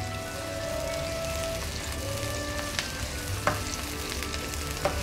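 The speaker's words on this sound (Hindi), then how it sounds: "तेल हमारा गर्म हो गया। अब हम इसमें डालेंगे हमारे प्याज।" Sliced onions hiss and crackle in hot oil in a pan for Hyderabadi baghare baingan, a steady close sizzle with occasional sharp pops and clinks of stirring.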